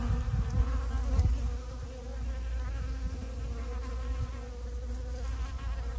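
Honeybees swarm over a jar, working to pull its top off, their buzzing a dense, continuous close hum with slight swells in loudness, and no one speaks.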